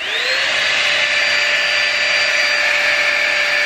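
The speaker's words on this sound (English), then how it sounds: "I'm going to start with the hairdryer" A hair dryer attachment of a Dyson Airwrap dupe whirs on and settles into a steady, loud high-pitched whine with a rushing cool airflow that stays constant to the end.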